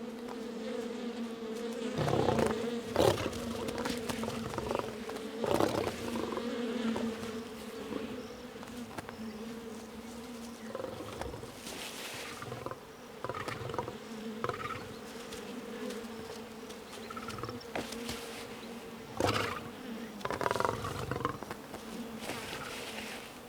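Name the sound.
angry swarm of bees buzzing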